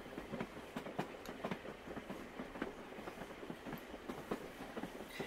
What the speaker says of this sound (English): there are some local trains here, like commuter trains, what we call commuter trains.